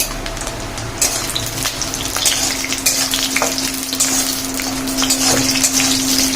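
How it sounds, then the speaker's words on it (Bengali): Steady, loud sizzle of coconut frying in a pan, with occasional scraping stirs, close by and continuous throughout. "আর এদিকে হচ্ছে নারকেল ভাজা।"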